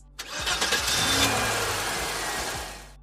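A Ford Flathead V8 car engine cranks and catches, then revs briefly before easing back, close and fairly clear on its own.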